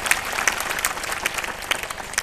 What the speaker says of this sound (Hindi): जरा एक बार ताली बजाकर महाराज जी का अभिनंदन करें।